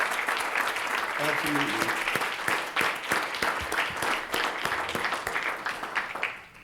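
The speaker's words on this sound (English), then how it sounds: "Can we give her a round of applause for making this all possible?" A lecture audience breaks into sustained applause, dense clapping that holds steady and then tapers off near the end, with a brief spoken word partway through.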